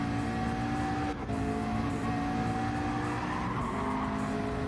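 McLaren race cars in a racing video game at Road Atlanta squeal and skid in a continuous loud tire screech over steady engine drone.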